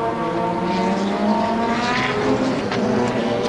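BMW race car lapping during the Spa-Francorchamps 24 Hours, a loud sustained engine note with rising harmonic tones that stays steady and close for the whole moment.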